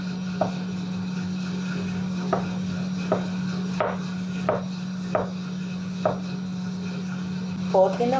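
Onions are chopped finely into cubes with a knife on a board, about ten crisp, evenly spaced taps close up over a steady low hum.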